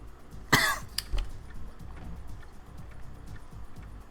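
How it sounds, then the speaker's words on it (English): A sharp cough bursts out, followed by a couple of smaller throat sounds, over a low rumbling background. "Yeah, I'm coughing a lot"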